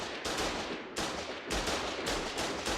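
Gunfire in the war game Foxhole aimed at a garrison building, dense overlapping bursts of shots cracking in several loud waves with no pause.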